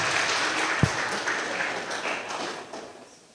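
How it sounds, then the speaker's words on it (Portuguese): A church congregation claps together during an evening worship service, a dense, full burst of applause that gradually thins and fades toward the end. "Aplauda o Senhor Jesus."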